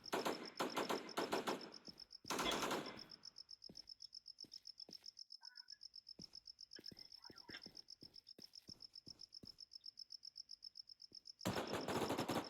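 Rapid automatic gunfire in the video game Infestation, a long run of evenly spaced sharp shots with louder bursts at the start and end, over a steady high-pitched whine.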